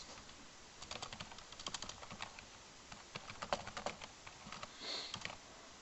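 Rapid keystrokes on a computer keyboard as a name is entered into a game interface, quick irregular clicks in short bursts with brief pauses, close and fairly quiet, no voices.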